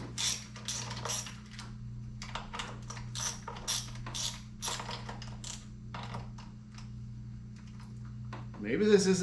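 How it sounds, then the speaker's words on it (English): A ratchet wrench removing a bolt from a motorcycle while installing a smart screen: rapid bursts of clicking pawl strokes in uneven runs over a steady low hum, ending with a brief rising whir. "let me take out our ratchet. I'm going to go ahead and just take this one off."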